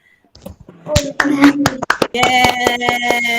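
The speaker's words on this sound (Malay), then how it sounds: "Tepuk tangan kawan-kawan." Schoolchildren in a Form 2 Islamic education class clap their hands, a few scattered, sharp claps building into a ragged, fast round of clapping, with children's voices talking and calling out over it.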